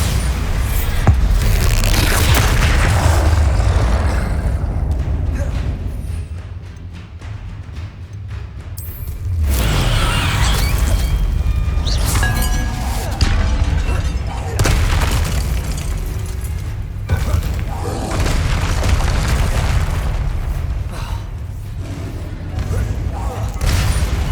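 Rapid bursts of combat magic in Hogwarts Legacy, including Confringo and Bombarda blasts, give heavy booms and crackling impacts that run almost continuously, with a brief lull midway.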